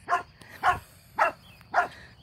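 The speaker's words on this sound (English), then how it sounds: "So here's Max barking at a rabbit, looks like" A dog at a dog park barks at a rabbit, four evenly spaced, fairly close barks with short pauses between them and no talk.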